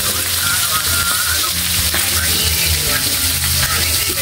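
Milkfish (bangus) fries in a pan with a dense, continuous sizzle and crackle, loud and close, with constant spattering and no pauses.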